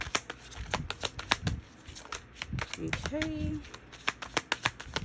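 Tarot cards shuffled close by in quick, repeated riffling snaps throughout, with someone speaking briefly over them.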